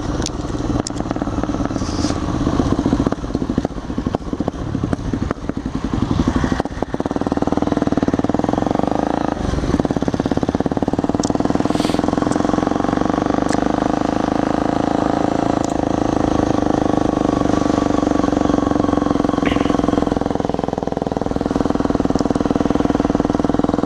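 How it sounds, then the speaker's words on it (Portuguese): Many motorcycles idle and rev together on a closed-off street, a loud continuous engine drone with crackling throttle blips, steady throughout. "Olha o tanto de moto."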